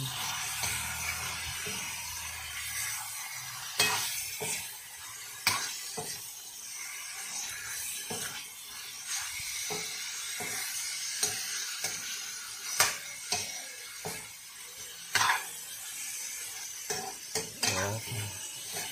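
Pork liver stirred in a pan with a utensil, scraping and clinking against the metal in scattered strokes over a soft, steady sizzle, close and fairly quiet, with no talking.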